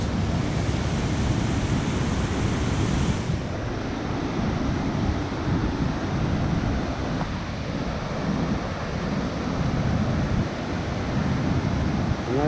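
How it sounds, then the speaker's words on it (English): High Falls waterfall in Geraldine, Alabama, swollen with heavy water flow, roars as a steady, dense broadband rush that stays loud and unbroken throughout, heard from a bridge nearby. "there's a lot of water coming off them falls right now."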